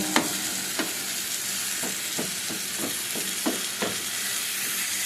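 Masala with tomato frying in a pan for matar paneer, a steady close sizzle broken by regular scraping strokes of a spoon stirring.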